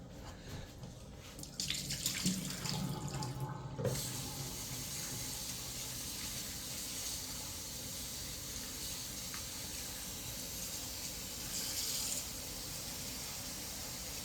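Water runs from a kitchen tap into a sink while something is rinsed before cooking, a steady hiss with splashing and clatter early on, continuing close and even to the end.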